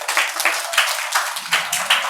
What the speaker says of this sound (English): Give a big applause for her.